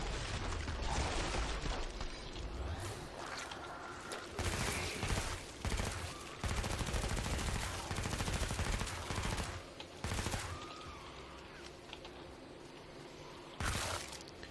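Dense, loud gunfire from the SWAT class in the video game Killing Floor 2, rapid automatic bursts and shattering impacts rattling in long stretches separated by short pauses, with mechanical clicks between volleys.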